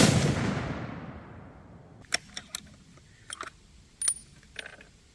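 A Ruger American rifle in .270 Win fires once at a 50-yard range, a loud blast that decays over about two seconds, followed by scattered light metallic clicks and rattles.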